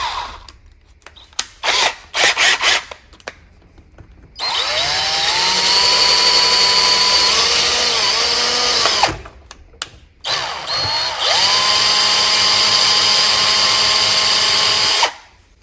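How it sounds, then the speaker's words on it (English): A power drill whirs in two long sustained bursts while drilling out a snapped bolt on a John Deere riding mower spindle, pitch rising as it spins up, with brief clicks and handling noises before and between. "Put in the drill."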